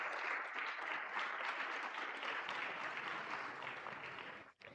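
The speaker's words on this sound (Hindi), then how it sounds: "एक बार जोरदार तालियां वेस्टर्न रेलवे के लिए।" Applause from the audience at an Indian railways award ceremony where Western Railway is honoured: steady, fairly faint clapping from a crowd that sustains evenly and then briefly dips near the end.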